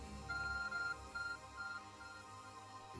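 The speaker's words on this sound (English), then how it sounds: "Your ARC phone is beeping." A repeating electronic beep from the ARC phone in the Pokemon Legends: Arceus video game, sounding in short tonal bursts over quiet game background.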